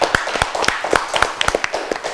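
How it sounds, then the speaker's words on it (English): An audience at a televised Ramadan quiz show claps for a team after an answer, with a short burst of close, quick, uneven handclaps. "Once again, clap for the team, please."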